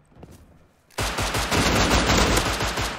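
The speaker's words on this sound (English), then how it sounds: "I could try and shoot at him first, and then he come behind" Automatic rifle fire in a multiplayer shooter game, a sudden loud burst of rapid shots that starts abruptly after a quieter stretch and keeps rattling densely to the end.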